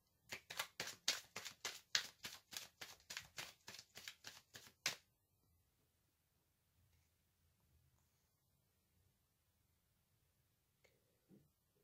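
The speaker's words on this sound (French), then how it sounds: "Je vais tirer une autre carte pour savoir quelle est la nature du bienfait." A tarot deck is shuffled in quick, rhythmic riffling bursts for about five seconds, then near silence with a few faint soft taps as a card is drawn.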